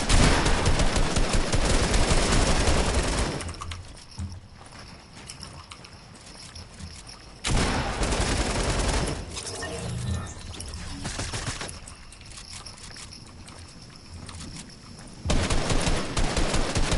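Submachine-gun fire in a video game rattles out in loud, dense bursts, one at the start, another around the middle and a third at the end, with quieter stretches of background game noise between them.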